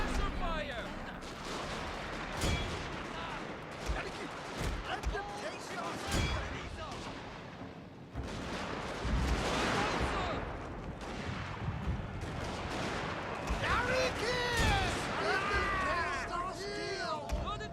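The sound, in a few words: gunfire in the Shogun 2 video game battle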